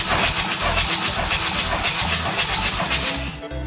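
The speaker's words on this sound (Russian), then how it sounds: "Производим замер компрессии на холодном двигателе" A Toyota RAV engine cranks over cold on the starter during a compression test, a steady, rapid rhythmic churning pulse that holds evenly before easing off at the end.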